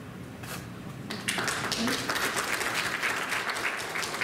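Audience clapping at a candidates forum, starting as scattered claps and then swelling into fuller, sustained applause from the room.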